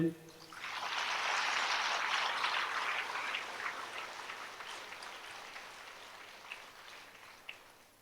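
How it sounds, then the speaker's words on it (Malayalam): A church congregation breaks into hand clapping during a sermon; the dense clapping swells within a second, holds for a few seconds, then thins and fades. "ഒന്ന് കൈയടിച്ചേ"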